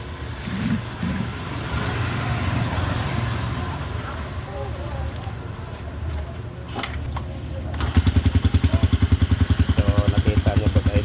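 A Rusi 150 motorcycle with a worn stator coil starts with one click after a mechanic's check and settles into a loud, steady, rapid idle throb up close, following talk in a workshop.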